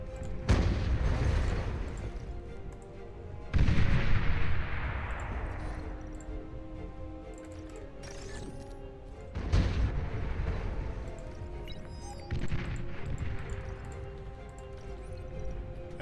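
Turrets fire in the strategy game Beyond All Reason: several heavy booming shots and clanging impacts, each trailing off into a long rumble, spaced a few seconds apart over continuous battle noise.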